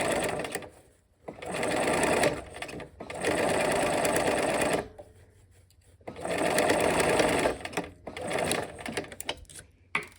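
A sewing machine stitches fabric around a curve in loud, steady runs of rapid mechanical whirring, stopping and restarting several times with brief quiet gaps between bursts, close up.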